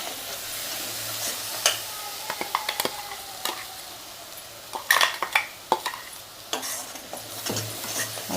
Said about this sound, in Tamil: தக்காளி முந்திரி அரைச்ச விழுதை சேர்த்து நல்லா ஒரு நிமிஷம் நம்ம வதக்கி விடலாம்